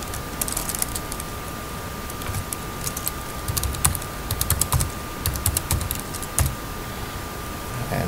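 Computer keyboard keys are tapped in quick, light bursts of clicks while entering a KRA PIN on the iTax portal, close and clear over a faint steady hum.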